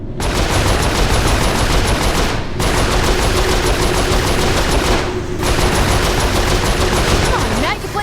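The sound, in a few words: mounted turret machine gun fire in Saints Row IV video game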